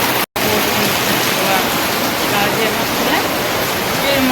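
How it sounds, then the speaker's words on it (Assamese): Heavy rain pours down outdoors as a dense, steady roar that fills the whole stretch without letting up, close and loud, with no talk. "খাতাৰনাক বৰষুণ দিছে দেই"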